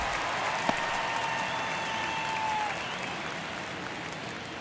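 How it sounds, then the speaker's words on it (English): Crowd noise in MLB The Show 23 rises during a tense one-run ninth inning at Yankee Stadium, a steady wash of stadium applause and cheering with a brief sharp clap near the start. "Crowd locked in right now."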